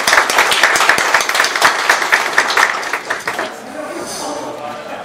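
Crisp, close applause from a crowd welcoming a speaker at the launch ceremony of a North Korea–focused internet broadcaster, sharp individual claps for about three seconds, then fading into quieter room ambience.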